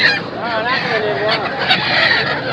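Loud, continuous clucking and honking of many fowl close by at the Pallavaram market, overlapping cries forming a noisy, crowded chorus.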